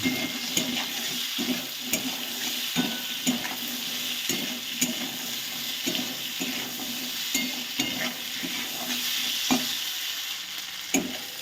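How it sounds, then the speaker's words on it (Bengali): Potato pieces seasoned with turmeric and salt fry in hot oil, a steady close sizzle broken by frequent sharp clicks and scrapes of stirring, with no one talking. "এবারে আমি আলুগুলোকে ভেজে নেব"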